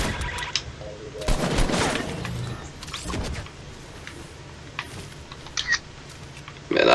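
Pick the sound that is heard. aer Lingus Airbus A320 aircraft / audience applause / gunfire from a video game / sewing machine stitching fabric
gunfire from a video game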